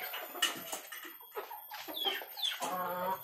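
Several chickens clucking close by, with overlapping short calls and a few higher squawks in a busy, cement-floored semi-free-range coop enclosed with shade netting.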